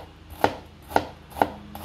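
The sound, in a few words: chopping onion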